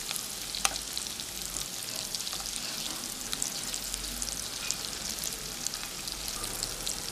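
Eggs frying in masala in a pan during village-style egg biryani cooking, a steady close sizzle with occasional sharp pops and crackles throughout, and no voices.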